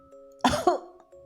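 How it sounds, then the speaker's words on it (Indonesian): A single close cough, a short double burst, over a quiet background with faint sustained tones. "dan suara batuk pun muncul"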